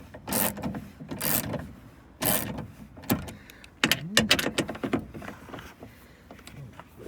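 A ratchet loosens a 10 mm bolt inside the door of a Jeep Grand Cherokee during window regulator work, giving a few close bursts of rapid clicking separated by pauses, with small metallic knocks between.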